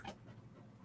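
A dog pants in quick, breathy bursts while playing with a toy, close and fairly quiet, with no talking.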